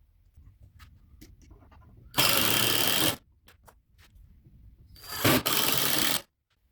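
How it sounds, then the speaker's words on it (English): An impact gun driving screws into a wood frame, two loud buzzing, rattling bursts of about a second each separated by quieter handling clicks and taps nearby. "This is an impact gun."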